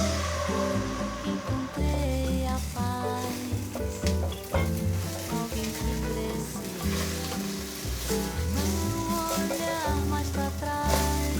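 Vegetables stir-fried with salted kombu in a hot pan, crackling and sizzling steadily while music plays loudly over it, with no talking.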